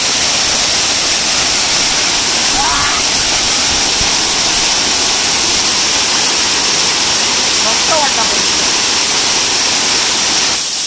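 A forest waterfall in rural Konkan roars as a loud, constant broadband rush, with faint voices briefly surfacing beneath the water noise.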